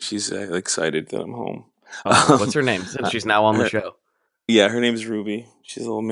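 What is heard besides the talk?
No distinct noise like a dog, phone or traffic.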